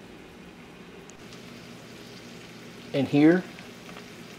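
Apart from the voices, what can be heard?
Jimmy Dean sausage frying in a pan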